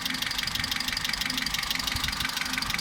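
A Vauxhall/Opel Ecotec petrol engine idling with a rough, diesel-like knock, a steady close rattling throb with no breaks and nobody talking.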